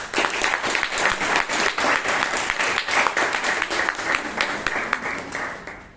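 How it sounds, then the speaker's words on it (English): A big round of applause from the audience at a Bangalore Toastmasters club meeting, dense rapid clapping that holds steady for several seconds before thinning slightly at the end. "the timer, the Arka, and the grammarian deserve a big round of applause"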